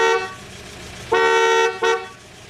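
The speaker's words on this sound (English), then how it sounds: "The other interesting thing with the steering wheel is the horn, which sounds very 1970s." Horn of a 1988 GAZ 24-10 Volga car, two loud honks, a long one followed by a short one, close and alone over a faint idle hum.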